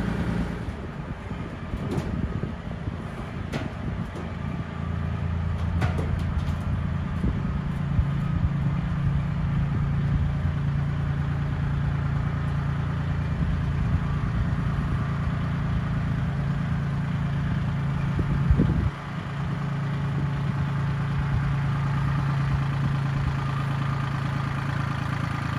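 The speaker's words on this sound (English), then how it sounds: "I just turned the tractor on so it could start warming up" A Kubota L2501 compact tractor idles inside a shipping container, a steady low diesel hum running evenly throughout with a few faint clanks early on and a brief bump near the end.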